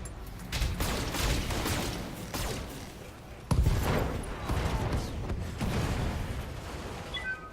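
Mech weapons firing in Battletech, a rapid series of loud booming blasts and explosive bursts in several waves, close and dense, with no talk.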